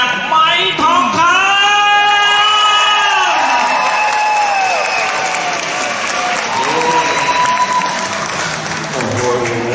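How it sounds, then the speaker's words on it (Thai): Loud applause from a crowd with high-pitched screams and cheers rising over it, steady clapping continuing throughout while voices shout excitedly. "เสียงปรบมือและเสียงกรี๊ดต้อนรับ"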